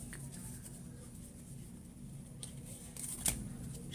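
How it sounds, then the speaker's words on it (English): A deck of playing cards being shuffled hard, a soft continuous papery riffle with a low steady hum underneath and a brief sharper flick near the end, heard alone without talk. "I really shuffled the hell out of these cards"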